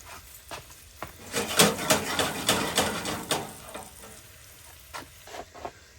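Pieces of deer heart laid into a hot skillet to pan fry: bursts of close crackling sizzle swell in the middle and then settle, with a few sharp pops and clicks near the end.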